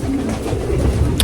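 Racing pigeons in an aviary cooing softly, low throaty coos repeating over a steady background hum, close and moderately loud.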